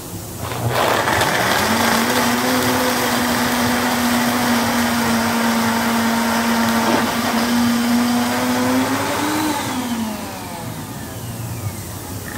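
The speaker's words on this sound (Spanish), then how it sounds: "Ahora vamos a proceder con la licuada del de hielo del café" A blender crushing ice for a frozen mocha whirs loudly and steadily for about ten seconds, its motor pitch holding level before rising briefly and winding down near the end.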